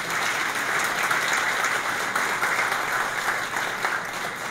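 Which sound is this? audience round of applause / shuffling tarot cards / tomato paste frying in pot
audience round of applause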